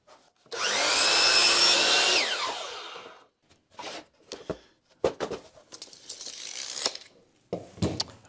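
A power saw cuts through plywood for a coffee table in a loud burst lasting about two and a half seconds, followed by scattered clunks, knocks and handling noises of the wood and tools.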